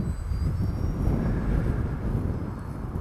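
A small Dynam Scout RC plane flying at full power in about 10 knots of wind, its electric motor a steady whine under heavy wind rumble on the microphone, the pitch shifting slightly as it passes.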